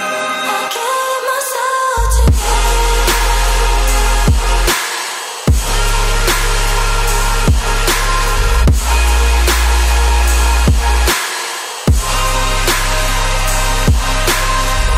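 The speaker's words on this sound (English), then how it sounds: "I have this kind of like huge sounding future bass type track that I'm working on" Huge-sounding future bass demo track with layered processed vocal loops, loud full-range playback with heavy bass drops, sharp percussive hits and brief breakdowns around two and eleven seconds, music alone without talk.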